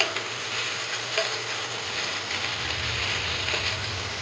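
Hilsa fish frying in hot oil for a sorshe ilish, a steady dense sizzle with faint crackles throughout, close and continuous with no talk.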